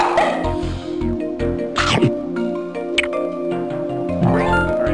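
A cartoon dogfish in the Freddi Fish underwater video game barks in repeated short yaps and whimpers, fairly close and loud over a steady game music bed.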